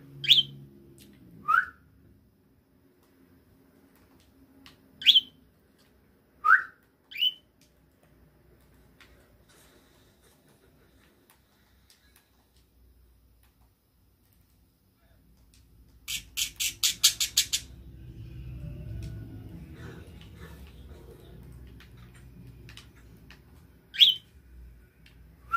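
Pet bird letting out sharp, loud squawks and whistles in scattered single calls across a quiet room, with a quick rattling burst midway and a soft rumble beneath, no voices.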